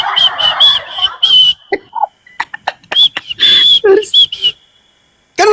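A baby in a swing whistling, a string of short, high, clear whistle notes in quick bursts, close and fairly loud, with a few clucking and rustling sounds between them.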